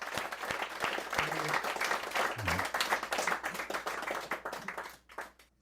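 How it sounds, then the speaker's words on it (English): Audience applause at a live Irish Stew event in a New York pub, a steady, dense wash of clapping hands from a crowd that carries on for several seconds before tapering off near the end. "you can make a lot of noise, a big boola bus, which means clap your hands in Gaelic"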